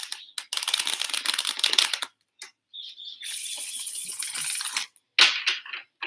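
Tarot cards riffled and shuffled by hand in several bursts separated by short pauses, close and crisp with no talking.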